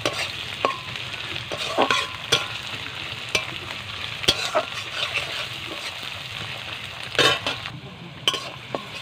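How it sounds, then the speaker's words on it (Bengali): Onion and tomato fry in a pan over a clay wood-fired stove while being stirred, a continuous close sizzle broken by regular scraping clicks of the spoon against the pan. "পেঁয়াজটা আমার আর টমেটোটা আমার ভাজা হয়ে গেছে"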